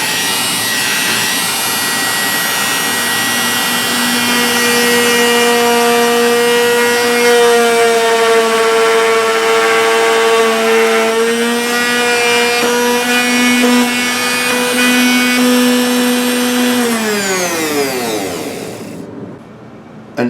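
A 1/16 inch bit spinning in a power tool as it cuts a slot in a wooden guitar body, a loud steady high whine that holds for many seconds, then winds down in pitch and stops, with no talking.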